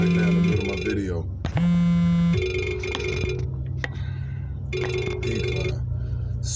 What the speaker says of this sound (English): why is my phone ringing right now in the middle of my video?